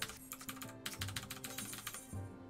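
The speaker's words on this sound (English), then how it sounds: "You can probably even hear me clicking too with my keyboard." Quiet, quick clicking of a computer keyboard while playing Final Fantasy XIV, with a steady run of keystrokes tapping at close range and no voices.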